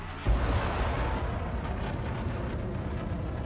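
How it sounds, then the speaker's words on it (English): A spaceship's engines in the video game Elite: Dangerous, a Mamba, give a deep roar that swells suddenly and then holds as a steady, rumbling whoosh with a faint high whine drifting downward. "it's a roar of the engines"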